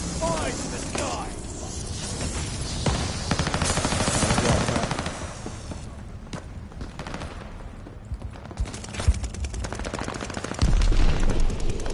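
Heavy, continuous gunfire from Call of Duty: Vanguard aimed at a hostile recon plane, with rapid machine-gun bursts and booming shots overlapping in a loud, dense barrage that runs throughout.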